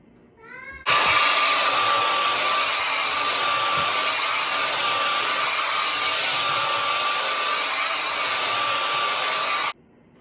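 A Bissell ProHeat 2X Revolution Pet Pro carpet cleaner switches on and runs on a rug with a loud, steady motor whine and suction hiss, then cuts off abruptly.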